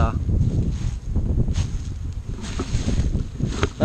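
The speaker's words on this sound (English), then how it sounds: "And excuse about the wind today. It is windy as heck." Strong outdoor wind at a beekeeping site buffets the microphone with continuous low rumbling gusts, a steady roaring blast throughout.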